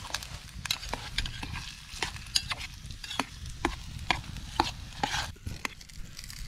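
Potatoes sizzle and crackle in a hot pan over a campfire in the woods, with a steady frying hiss broken by frequent scraping stirs.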